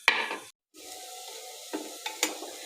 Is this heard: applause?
no